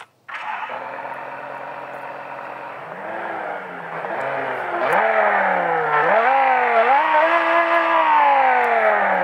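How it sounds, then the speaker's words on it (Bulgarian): A 560 hp V10 car engine starts and settles into a deep idle, then revs repeatedly, each rise and fall growing louder and rising in pitch, heard close and alone with no talking. "А сега нека събудим този V10 звяр."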